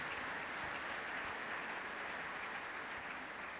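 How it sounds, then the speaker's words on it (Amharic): A church congregation claps together during a sermon, a steady, even wash of applause that stays at a moderate level from start to finish with no break. "እስቲ ለዚህ ቃል ሁላችንም እናጨብጭባለን አጨብጭቡ እስቲ"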